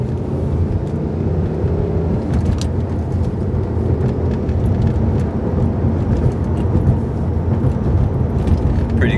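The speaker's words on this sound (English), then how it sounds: "So this is second gear." A Volvo C30 fitted with a new exhaust accelerates in second gear, its engine drone heard from inside the car as a steady, moderately loud rumble with no talking.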